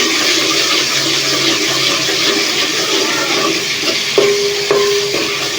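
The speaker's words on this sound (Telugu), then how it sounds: "అల్లంను ఈ విధంగా వేపుకున్న తర్వాత" Ginger fries and is stirred in a pan while a fish curry is cooked. A steady, loud sizzle holds throughout, with a few clinks of the spoon against the pan near the end.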